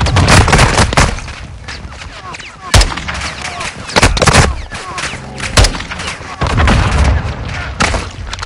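Gunfire rings out in a Call of Duty Modern Warfare 2 battle: loud, sharp shots and heavy booms strike repeatedly at irregular intervals over a dense, rumbling combat din.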